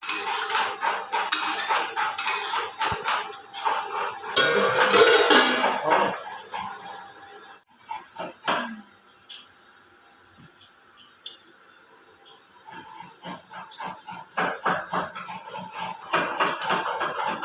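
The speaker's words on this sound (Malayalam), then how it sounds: "തേങ്ങ ചിരിയുന്ന കൊണ്ടാട്ടിയാണ്." A hand coconut scraper working through a coconut in a home kitchen, with bursts of scraping and metallic clatter, loudest early on, then a quieter gap before renewed rough scraping toward the end.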